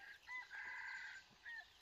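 A chicken clucks and gives short crowing calls, several bursts close by with brief gaps between them, alone with no voices.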